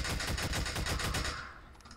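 Rapid automatic gunfire from a gun in the video game Half-Life 2: a loud, close, evenly spaced burst of shots that stops after about a second and a half.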